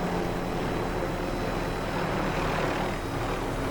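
Constant low engine drone and rotor rumble of a helicopter in Call of Duty: Warzone, steady and loud throughout, with no talking.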